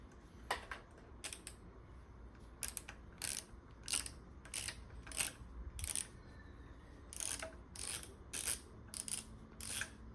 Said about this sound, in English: My torque wrench just doesn't like, I mean, it barely, you can barely feel it